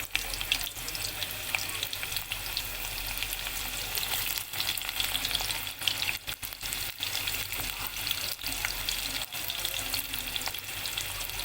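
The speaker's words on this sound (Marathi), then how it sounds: "आता आपण कांदा टाकून घेऊया." Long-sliced onion fries in a hot pan with black pepper for Mysore pulao. It makes a continuous soft sizzle and crackle, with occasional stirring scrapes and no talking.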